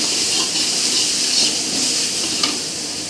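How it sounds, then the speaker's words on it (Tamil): Chicken sautéing in a hot pan with salt for a Kashmiri murgh chaman dish, a close, steady hissing sizzle with light stirring scrapes and one sharper clink; nobody talks. "சிக்கனை போட்டு நல்லா வதக்கணும்"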